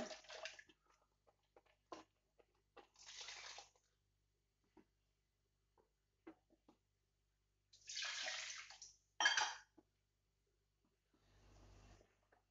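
Water splashes into a mixer jar of ground masala for a Tulu-style clam (maruvayi) dish, in a few short, soft pouring bursts separated by quiet pauses.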